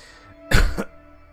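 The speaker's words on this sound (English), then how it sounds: "I will try not to cough into the microphone again." A single short cough lands close into a microphone, a loud broadband burst lasting about a third of a second amid otherwise quiet room tone.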